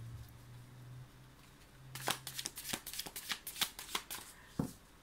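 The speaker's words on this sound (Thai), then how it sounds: "ขอสับไพ่ก่อนนะคะ" Tarot cards being shuffled by hand in a quiet room, a quick run of crisp riffling flicks and slaps that starts partway through and ends with a final tap, with a steady low hum underneath.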